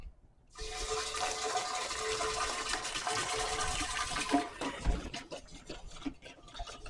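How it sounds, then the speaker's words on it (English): Regular white vinegar poured into a 15-gallon copper still makes a steady, loud gush of liquid that lasts several seconds, then breaks up into trickles and splashes as the pour ends. "Now I'm going to put in the vinegar."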